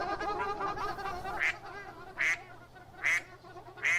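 A duck quacks four times in an evenly spaced series, close and clear, with a soft rumbling background underneath.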